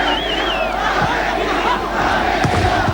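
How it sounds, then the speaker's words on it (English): A boisterous football crowd in Paysandu cheers for Argentina at the 1995 Copa América match against Chile. It is a dense, continuous roar of many voices with shouts and a wavering whistle or horn cutting through near the start. "Argentina then cheered on by a boisterous crowd here in Paysandu"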